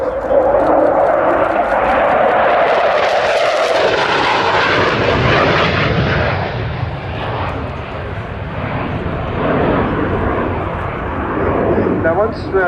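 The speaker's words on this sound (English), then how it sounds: "the Sea Vixen comes into land" A Sea Vixen jet aircraft passes with a loud, sustained engine roar that swells and then eases off as it goes by, steady and close throughout.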